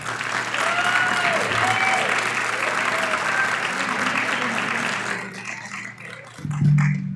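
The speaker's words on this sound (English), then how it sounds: "Just a reminder, please hold your applause so that we can keep it moving." Audience applause fills a mayoral candidates debate hall in Belleville, steady and dense for about five seconds before tapering off, with faint background voices and a brief low rumble at the end.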